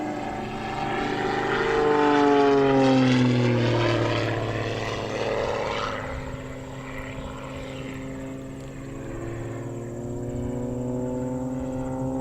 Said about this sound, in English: this is the torque roll. Just hanging on the prop, going down through his own smoke